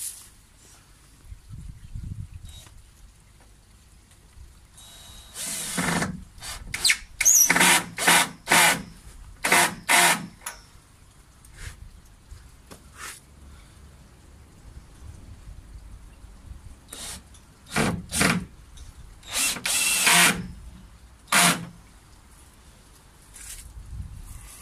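Power drill driving screws into the wooden sides of a koi pond, with short bursts of whirring and clattering between quiet pauses, close by.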